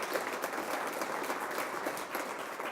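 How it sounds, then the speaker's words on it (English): Distant, steady applause from an audience at an Irish America Hall of Fame awards event, an even patter of many hands heard faintly throughout. "So give them a round of applause as well"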